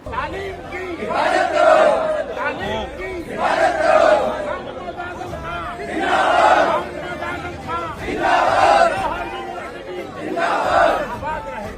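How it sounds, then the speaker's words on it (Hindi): A large crowd of protesters chants slogans in loud, rhythmic waves, five swelling bursts roughly two seconds apart, with the crowd's noise continuing between them. "ये नारे, ये भीड़ एक विश्वविद्यालय बचाने की थी।"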